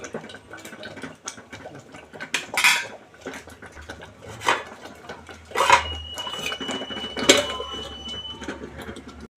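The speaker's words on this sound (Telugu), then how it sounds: "గోంగూర ఉడుకుతూ ఉన్నప్పుడు తుల్లిపోతూ ఉంటుంది అనమాట అందుకని మోత పెట్టాం" Metal lid set onto a pot of simmering gongura leaves, giving several sharp clanks and scrapes spaced a second or two apart, close by in a quiet kitchen.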